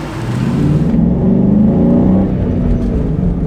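A car engine revs and holds at a steady, throaty roar with a deep exhaust rumble. It is close and loud, with no talking.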